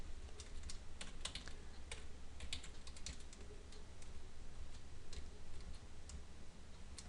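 Steady, close computer keyboard typing during a programming session fixing code, with rapid irregular clicks and taps running continuously over a low background hum and no voices.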